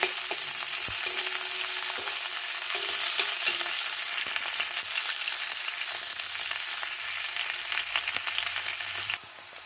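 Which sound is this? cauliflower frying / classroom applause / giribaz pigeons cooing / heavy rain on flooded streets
cauliflower frying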